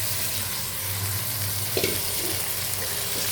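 Small chopped tomato pieces fry with onions, fenugreek seeds and ginger-garlic paste in a pan, a dense continuous sizzle with a brief stirring scrape partway through and no talking.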